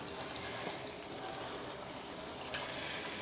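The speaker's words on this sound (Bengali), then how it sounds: "একটু জল দিয়ে দিলাম।" Water poured from a container into a pan of eggs cooking on a gas stove, a quiet, steady trickling splash lasting a few seconds, with a slightly louder burst near the end.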